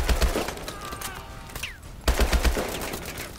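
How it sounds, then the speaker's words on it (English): Bursts of rapid gunfire from Call of Duty: Advanced Warfare come in two close, dense volleys, one at the start and one in the second half, separated by a quieter stretch of game sounds. "I'm just gonna go in and start shooting"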